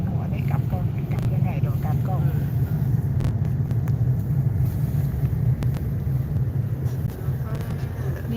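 Car driven on a snowy road in Iceland: a continuous low engine and tyre rumble from inside the cabin, steady and fairly loud, with voices chatting over it.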